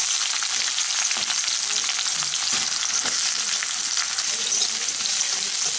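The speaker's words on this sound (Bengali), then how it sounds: "এখন এই পেঁয়াজটাকে আমি হালকা বাদামি করে ভেজে নিচ্ছি।" Two medium chopped onions frying in hot mustard oil for an egg omelette curry, a steady close sizzle with occasional stirring scrapes and no talking.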